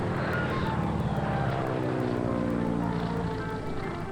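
A light training airplane's propeller engine drones steadily in flight during a lesson, a continuous, moderately loud hum with a slight waver throughout.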